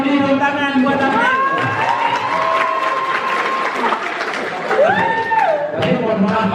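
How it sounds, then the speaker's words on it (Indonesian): A school audience applauds and cheers for a student, dense clapping with scattered shouts and chatter, while a voice talks over the crowd. "tepuk tangan buat Aprilia"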